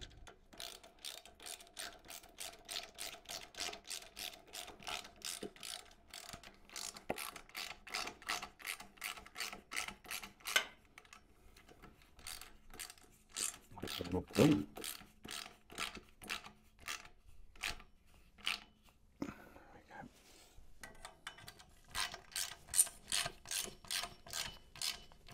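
Repeated ratchet clicking as a Black Widow exhaust is tightened onto a brand new Yamaha R7 motorbike, fast rhythmic pawl clicks in bursts with short pauses, close and moderately loud, no talking.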